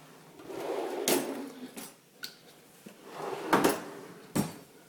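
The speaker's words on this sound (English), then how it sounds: "All the pots and pan drawers pull out." Pots and pans drawers in a kitchen glide open on full-extension slides, giving several soft rolling slides and distinct knocks and thumps scattered through a quiet room.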